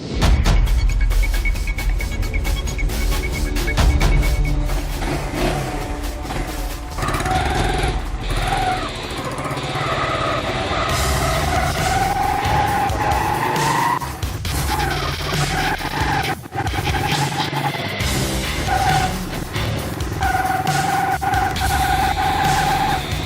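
A motorcycle said to run on pure water fuel is ridden, its small engine buzzing loudly and continuously nearby with shifting revs throughout, with no speech.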